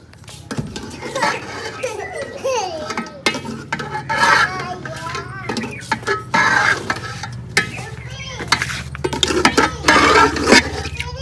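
Chicken added to hot ghee in a pot for village-style chicken biryani, sizzling and frying with metal stirring scrapes and clinks throughout, under continuous talk.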